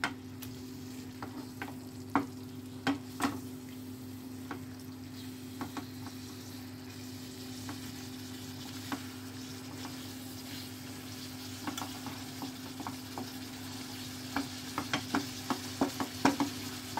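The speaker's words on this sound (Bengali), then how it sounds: "এটাকে খুব ভালো করে নাড়িয়ে চাড়িয়ে নিতে হবে।" Chicken masala fries in a pan with a quiet, steady sizzle and a scatter of sharp spatula taps and scrapes, more frequent toward the end; no speech.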